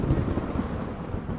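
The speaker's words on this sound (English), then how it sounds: "Ah, thunder!" Thunder rolling after a lightning flash in a storm, a loud, dense low rumble that fills the short moment with no clear start or end, heard alone without voices.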